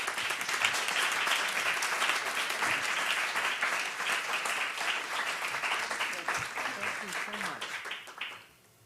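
An audience at a public forum claps steadily to welcome Senator Hassan, a full, even wash of applause lasting several seconds before fading out, with some voices underneath.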